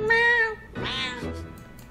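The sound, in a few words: cat meowing as if arguing with a person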